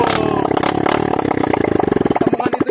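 Dirt motorcycle, a WR 155 or bored-up CRF150, clattering and revving on the steep Akasia trail climb, loud and close with a rapid, uneven mechanical knocking that grows choppier toward the end.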